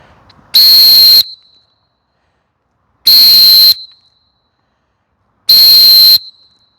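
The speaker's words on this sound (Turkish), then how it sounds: "Evet 115 desibel olan Fox 40 Epic CMG modeli 113 desibel ses verdi" Three loud, piercing blasts from a plastic Fox 40 Epic CMG referee whistle, measured at 113 decibels, each about half a second long, separated by clear pauses of silence.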